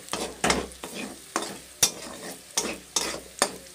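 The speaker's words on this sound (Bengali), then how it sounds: "আমি ভালো করে ভেজে নেব। পেঁয়াজ রসুনটা হালকা লাল লাল হয়ে এসছে" Onion and garlic fry in a pan as they turn golden, with rhythmic scraping stir strokes about every half second over a constant close sizzle.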